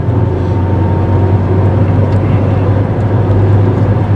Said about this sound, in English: now I'm driving in beautiful countryside